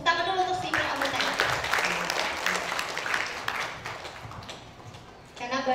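Audience applause for STIPER Amuntai at a campus anniversary talk show, a broad wash of clapping that gradually thins out, with a voice briefly heard at the start and again as it ends.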